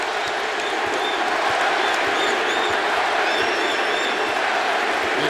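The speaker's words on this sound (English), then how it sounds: "And the crowd loves it." A packed NBA basketball arena crowd at a Golden State home game, a loud sustained roar of cheering and applause filling the space, with faint whistles riding above the wash of noise.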